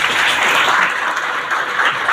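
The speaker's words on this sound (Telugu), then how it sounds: "చప్పట్లు గట్టిగా అందరూ" Loud, continuous applause from devotees at a temple wedding ceremony of Parvati and Parameshwara, a dense, close wash of many hands clapping without voices.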